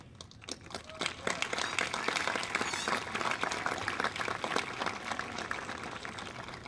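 A graduating class and its audience break into dense, crackling applause at a 2014 school promotion ceremony, building quickly and holding steady at a moderate level.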